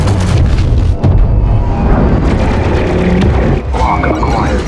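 Missiles strike and blow apart spaceships in a film scene, a loud, sustained roar of heavy booms and rumbling blasts with a brief dip in the middle before the thunder resumes.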